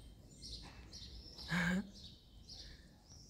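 Small birds chirp and call in short, fairly faint bursts along a riverside walking trail near Chinon in the Loire valley, with one louder call near the middle and a soft outdoor hiss in the background.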